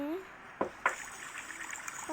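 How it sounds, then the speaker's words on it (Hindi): Water is poured to fill a container during an iftar meal, a soft, faint trickle running under a person talking, with two brief knocks early on. "पानी भर दिया।"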